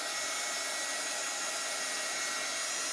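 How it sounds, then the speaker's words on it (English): Hair dryer blowing steadily on wax over a Chalk Couture Christmas tree craft project, a constant even rush of air at moderate level without speech. "So just go over it with a hair dryer or a heat tool."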